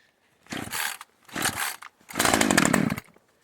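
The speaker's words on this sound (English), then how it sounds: "I'll just yank it once or twice with the choke on, and it'll fire." A Husqvarna T435 Xtorq chainsaw is pull-started with the choke on: three sharp, close rasping cord yanks, the last longer with a brief sputtering catch before dropping to quiet.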